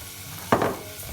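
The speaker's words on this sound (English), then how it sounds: "Drop of olive oil in there. Add your onions." Onions added to olive oil in a pan for roasted butternut squash soup set off a sudden short burst of sizzling over a faint background hiss.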